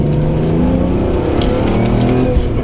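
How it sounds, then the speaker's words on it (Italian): A BMW M3 E46 engine revs hard under acceleration, heard up close from inside the car as a loud, continuous roar with climbing engine harmonics and no talking. "Devastante, ti prende per il collo sto motore."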